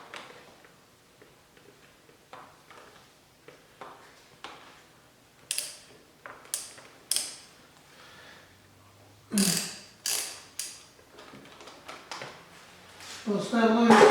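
Deep well socket wrench working a 10mm bolt on a 2020 Yamaha R1, giving a run of quick ratcheting clicks in short bursts, close by, with a few louder knocks and clatter near the end.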